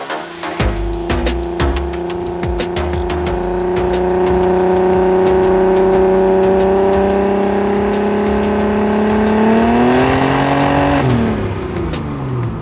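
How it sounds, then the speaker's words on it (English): A VW Caravelle bus with a swapped-in R32 engine and 5-speed gearbox idles and revs up close, a loud, even engine tone that climbs in pitch near the end, then drops back. "So it's got an R32 motor, 5-speed gearbox on it."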